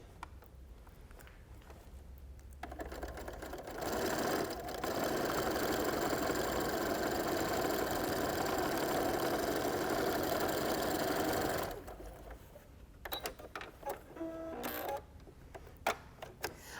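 A sewing machine stitches quilt pieces in one long, steady whirring run of about eight seconds, close and fairly loud, followed by softer clicks and handling of fabric.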